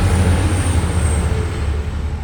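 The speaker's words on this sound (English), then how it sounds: "Trans-Pennine Express again going through." A TransPennine Express train passing close by on the line at Lee Green, a loud steady rumble with low droning tones and a faint high whine.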